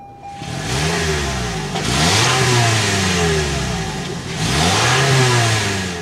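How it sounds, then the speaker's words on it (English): A 2024 Toyota RAV4 LE engine is revved repeatedly, three rising-and-falling bursts of exhaust from a mid-pitched four-cylinder, loud and close, with no talking. "start up this bad boy so you can hear that exhaust thump"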